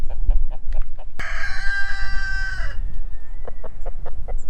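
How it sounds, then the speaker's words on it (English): A rooster with a large comb gives one loud, close crow with a deep voice that holds steady and then trails off, set against a farmyard where other fowl are clucking and calling in the background. "He's got a deeper crow than most of the other ones do too."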